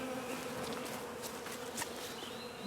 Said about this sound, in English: there's still a pretty good clump of bees inside this cat house